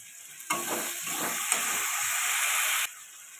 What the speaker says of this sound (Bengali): জিরের গুঁড়ো দিয়ে দিলাম অল্প করে জল দিয়ে দেবো দিয়ে কষাতে থাকবো এটা